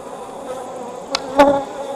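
Honeybees buzz close by at an open hive during an inspection, a soft, steady drone with a couple of brief louder passes as individual bees fly near.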